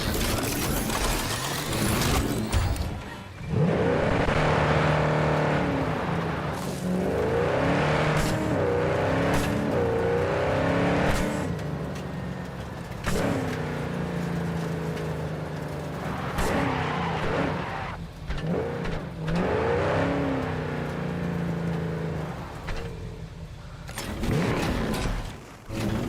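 A video game car engine in Cyberpunk 2077 roars and revs continuously, rising and falling in pitch through gear changes, with tire noise and a brief skid, loud throughout.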